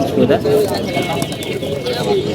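Pigeons, including chua chandan birds, coo softly amid steady crowd noise and nearby talking at the Tongi market where birds are sold.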